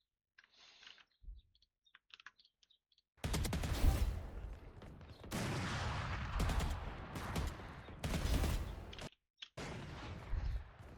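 Video game gunfire in a deathmatch comes as dense, rapid bursts of crackling shots in several clusters, preceded by faint clicks and separated by brief gaps.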